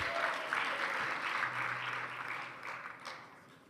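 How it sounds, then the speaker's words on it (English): An audience at a youth-led dialogue event gives warm applause for a performance, a broad wash of many hands clapping at moderate distance, fading gradually toward the end. "another warm round of applause to Christian for an amazing performance"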